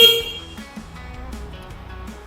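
A QJM SRV 250 scooter horn gives one short beep right at the start, then fades into a low idling hum.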